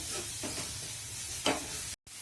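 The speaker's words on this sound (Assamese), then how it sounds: "পটল ভজা তেলতে মই এতিয়া আদা নহৰু পিঁয়াজখিনি মই ভাজি লৈছোঁ।" Steady hot-oil sizzle with ginger, garlic and onion frying in oil left from frying pointed gourd, a scrape of stirring near the middle, then a brief cut to silence.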